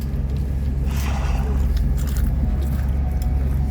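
Crisps being eaten on a train, with crunchy bites and chewing close to the microphone over a constant low rumble of the moving carriage.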